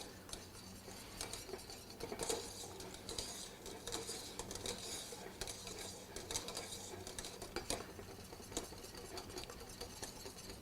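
A whisk scrapes and stirs steadily through thickening cornstarch pastry cream in a pot, a faint continuous clinking and swishing with no talk over it.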